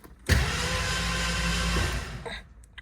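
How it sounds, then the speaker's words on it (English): The key cranks a 1969 Mercury Cougar XR7 convertible's engine, giving a loud, close starter churn that runs about two seconds without catching, then cuts off. "cranks with the key."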